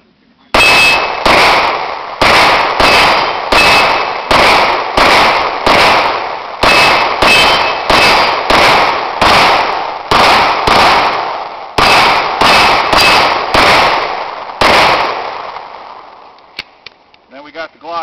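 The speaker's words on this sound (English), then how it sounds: "20 rounds in the Beretta." A Beretta handgun fires about twenty rounds at a steel target, each sharp, loud report ringing off the metal in a steady, rapid rhythm before the firing stops.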